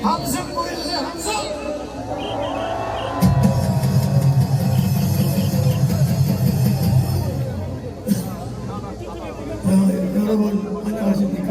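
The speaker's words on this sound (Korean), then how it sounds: "함성 보여주세요. 함성." A large crowd at an outdoor patriotic rally in Gwanghwamun marking the 78th Liberation Day keeps up a loud, sustained roar and chatter, swelling and falling over several seconds, with a voice carrying over the noise.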